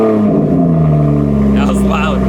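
A car engine running at idle, steady and loud close to the microphone, with a person talking over the engine's continuous hum.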